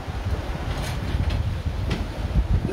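Steady outdoor breeze on Cat Island gusting across the microphone, a continuous low rumbling wind noise with no speech over it.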